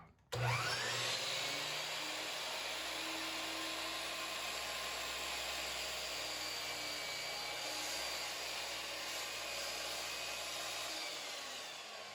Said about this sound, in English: So I'm making the 16-inch cuts now on the miter saw.